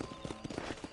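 Rhythmic hoofbeats of a horse galloping in the video game Red Dead Redemption, a quick steady clip-clop, close and moderately loud, heard briefly on its own.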